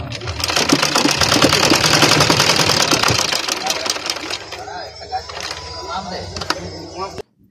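A sewing machine runs fast while stitching a blouse, its rapid needle chatter loud and continuous for several seconds before slowing into a few separate clunks and stopping abruptly; a voice speaks faintly underneath.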